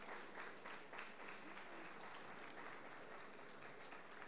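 Audience applause at a certification ceremony, a dense, even patter of many hands clapping continuously throughout, heard from some distance at low level.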